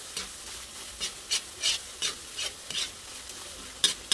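Butter shrimp being stirred with oyster sauce in a pan, with soft scraping strokes against the pan at an irregular rhythm over a faint background sizzle, close and fairly quiet.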